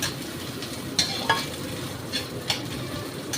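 Grated coconut and other oats pulao ingredients are stirred in a hot pan, a quiet continuous sizzle broken by a few brief spoon scrapes against the metal, no voices.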